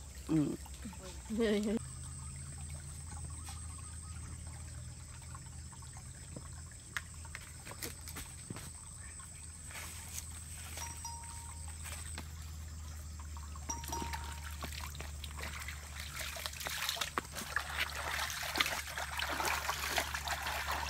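Water trickles and splashes softly while clothes are washed by hand in a river, with scattered small splashes and knocks under people talking nearby.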